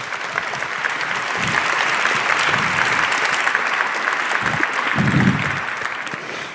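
Steady applause from a conference audience at a 34C3 talk fills the room, many hands clapping at once, with a few faint low murmurs underneath.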